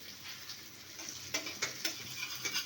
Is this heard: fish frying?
yes